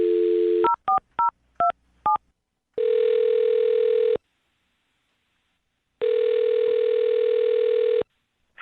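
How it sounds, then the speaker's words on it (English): Steady dial tone from a telephone handset, then a quick run of five DTMF keypad beeps as a number is dialed, followed by two long ringback tones separated by silence, clear and close with no talking. "I'm going to dial her phone number right now"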